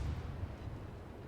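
Massachusetts battleship secondary guns fire in World of Warships, giving a low, continuous rumbling boom of distant-sounding salvos, quiet and muffled, with no talk.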